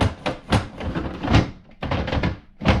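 Worn, loose cupboard doors in an old house kitchen being opened and closed, a series of close, loud wooden thunks and knocks in quick irregular succession, with no talk.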